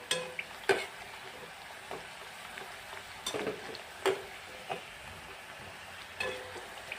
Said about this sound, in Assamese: আৰু অলপ ৰঙাকৈ ভাজি নমাই দিম